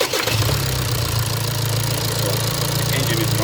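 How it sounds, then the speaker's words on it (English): A car engine idles steadily during a throttle body wiring test, a continuous low rumble with an even, slightly knocking pulse, close and alone without talk. "the engine is running"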